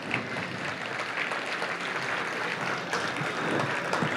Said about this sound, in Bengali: যদি ভালো লেগে থাকে একটু জোরে হাততালি হোক